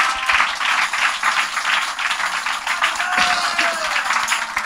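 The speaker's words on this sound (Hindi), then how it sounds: "जोरदार ताली बजा के श्री धन्यवाद दीजिए" Church congregation clapping together in a sustained, dense wave of applause, moderately loud and steady throughout, with no distinct voices rising above it.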